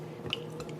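Tamarind pulp squeezed by hand lets its juice fall in a single brief, soft liquid drip, faint and close.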